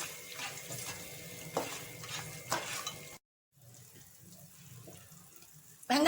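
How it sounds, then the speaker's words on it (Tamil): Small onions sauté in hot oil with mustard seeds and urad dal, giving a close sizzle broken by repeated scraping stirs. A brief silent gap falls partway through. "வெங்காயத்தை கொஞ்ச நேரம் வதக்கிக்கலாம்."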